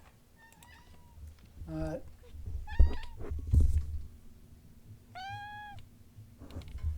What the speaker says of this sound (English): I don't know if you could hear the cat